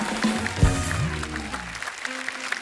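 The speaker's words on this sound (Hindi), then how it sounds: "एक बार जोरदार तालियां हो जाए" A studio audience on a Hindi comedy talk show applauds warmly, sustained crowd clapping at moderate volume while music and a voice sound beneath it.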